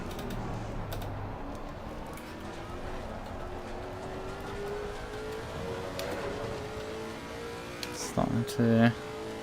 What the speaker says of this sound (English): Let's see what the car can do here.